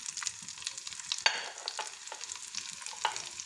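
Chopped onion dropped into hot oil left from frying fish sizzles faintly and continuously, with light spatula taps and stirring clicks scattered throughout, close by and without speech.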